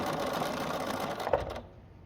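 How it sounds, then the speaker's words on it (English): A sewing machine stitches a quilt in a fast, steady run of close mechanical clatter that stops abruptly near the end. "I wasn't stitching this fast on the quilt, but it's working now."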